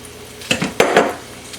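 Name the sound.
onions added to a pot for French onion soup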